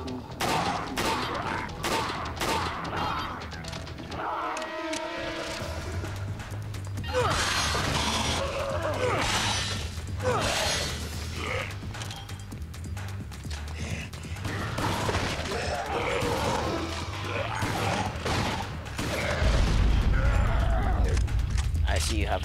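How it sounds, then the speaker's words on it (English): Gunfire as a character shoots up zombies in the Dead Rising video game: rapid, clattery shots and crashes run throughout, mixed with mechanical clanks, a tonal game sound and voices talking over the action. "He's shooting up zombies."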